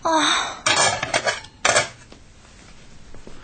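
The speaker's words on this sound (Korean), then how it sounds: "아직도 김이 올라오는 양은 냄비 위에 쨍그랑 소리를 내며 덮었다" Several sharp metallic clangs ring out in quick succession as a lid clatters onto a thin, still-steaming aluminum pot, then fade into quiet room tone.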